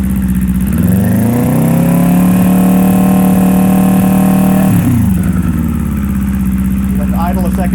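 Kawasaki Eliminator 450 motorcycle fitted with a Coffman's Thunder exhaust, close and loud, rising from idle into a held mid-range rev that stays steady for several seconds, then drops back to a lumpy idle.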